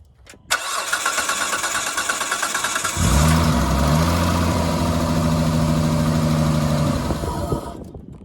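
A Dodge Stratus RT coupe engine being fed carburetor cleaner cranks for a few seconds with a whirring starter, fires into a rough, loud, close run for about four seconds, then winds down and stops.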